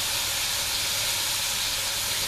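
Sliced onions frying in a pan for liver and onions as sauce goes in, giving a steady, even hiss of sizzling that carries on without a break and has no talk over it.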